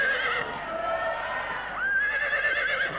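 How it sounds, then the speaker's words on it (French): A horse neighs close by in two shrill, wavering whinnies, with the second rising sharply near the end. "C'est un cheval."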